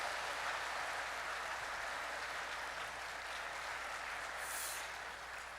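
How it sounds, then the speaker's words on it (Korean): A church congregation applauds warmly during a Sunday harvest thanksgiving service, a steady broad wash of clapping filling the room throughout and easing slightly toward the end. "따뜻하게 박수해 주시기 바랍니다."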